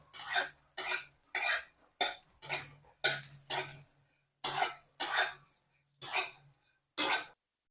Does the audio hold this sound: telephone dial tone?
no